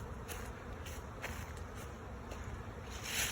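A honeybee swarm hums around the hive during an inspection. It is a continuous, dense buzzing from many bees, with individual insects passing near the microphone now and then.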